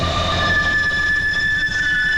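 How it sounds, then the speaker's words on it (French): A Paris Métro line 14 Météor train runs along the track with a steady, loud rumble and sustained high-pitched wheel squeal throughout. "suivi des premiers essais de circulation des métros entre les 7 nouvelles stations"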